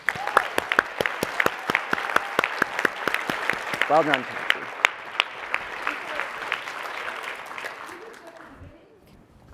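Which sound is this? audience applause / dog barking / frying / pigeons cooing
audience applause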